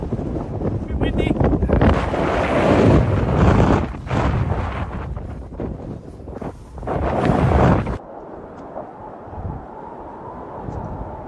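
Strong wind on the 2,036-foot summit of Snaefell buffets the microphone in loud roaring gusts, rising and falling, then easing to a lighter steady rush near the end.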